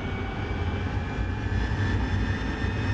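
Jet engine of a fighter in DCS World roaring at full throttle on the takeoff roll, a loud, steady broadband rumble with a constant whine, continuous and close throughout with no talk.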